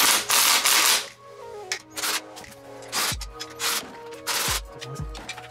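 Clutch pressure plate retaining bolts on an Evo 9 SE are run down with a power tool, several loud, separate bursts of whirring and ratcheting with short pauses between each bolt, close up and without talk.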